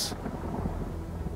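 Thunder from an approaching storm in the video game Hitman 2, a low rolling rumble after a brief bright crack at the start, steady and moderately loud.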